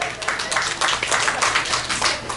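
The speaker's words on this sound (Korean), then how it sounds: "박수 한번 쳐줘요" Outdoor crowd clapping for a pumba street performance at the 2018 Hampyeong chrysanthemum festival, with fairly loud, continuous applause of many hands throughout.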